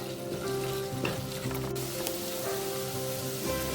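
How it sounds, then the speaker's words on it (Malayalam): Okra sautés in oil in a pan over a medium flame, producing a continuous close sizzle with occasional stirring scrapes, and a faint steady tone runs underneath. "ഇതൊന്ന് ഒരു 10 മിനിറ്റ് മെല്ലെ മീഡിയം ഫ്ലെയിമിലിട്ടിട്ട് ഒന്ന് വഴറ്റിയെടുക്കട്ടെ."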